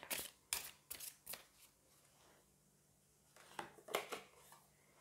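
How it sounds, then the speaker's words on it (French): An oracle deck is handled as a card is drawn, with a handful of quick, soft papery riffles and flicks clustered at the start and again near the end, faint and close, separated by a quiet pause. "Et on va aller prendre une carte de l'oracle."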